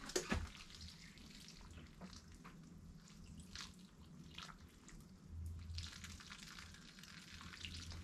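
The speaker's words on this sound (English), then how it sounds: "Now I'll water that in really well." Water poured onto a freshly planted petunia hanging basket, a steady splashing trickle running for several seconds with a few louder gushes, fairly close and with no talking.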